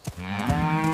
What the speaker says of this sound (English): Wow, look at that cow